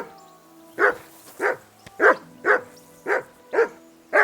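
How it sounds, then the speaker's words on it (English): Seven sharp, loud dog barks come at a brisk, even pace from the medieval game Kingdom Come Deliverance 2, close by and alone over a quiet low hum. "Henry! Call that dog to heel!"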